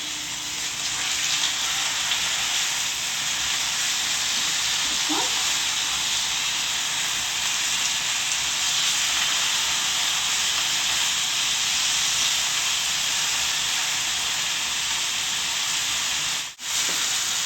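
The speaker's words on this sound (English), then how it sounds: "I will flip them and have them brown on the other side." Pork tenderloin pieces browning in a hot pan, a constant even hiss of frying that continues steadily with no talking.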